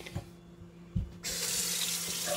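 A kitchen tap runs water to fill a coffee pot, starting with a few brief clicks and knocks before a steady, hissing stream of running water takes over and continues to the end.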